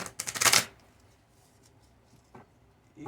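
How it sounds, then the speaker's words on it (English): A small deck of tiny tarot cards being shuffled: a quick burst of riffling flutter up close, then quiet with a couple of faint card taps. "it just feels weird shuffling like a little tiny bit of cards"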